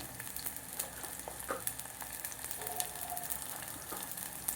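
Mustard seeds and cumin crackling in hot tempering oil: a steady, close sizzle with scattered small pops and spits throughout, no voices.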